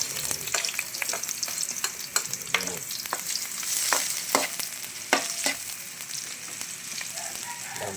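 Onion is stir-fried in a hot pan with sautéed aromatics, giving a constant loud sizzle broken by many sharp spatula scrapes and clacks at an irregular rhythm, close and with no voice.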